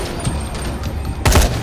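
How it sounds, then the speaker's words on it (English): In the video game Dying Light, an enemy who has been set on fire keeps firing, and a loud gunshot burst strikes suddenly near the end after a stretch of low background noise. "He's on fire and he's still shooting me."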